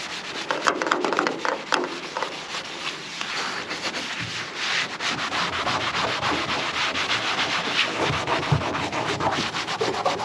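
A green Scotch-Brite pad scrubbing caked-on algae and scale off a van body, a steady close abrasive rubbing in continuous back-and-forth strokes with no talking.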